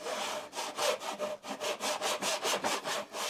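A hand saw cuts a rebate in wood with about a dozen steady rasping strokes, each push and pull clearly separated, close and fairly loud with no talking.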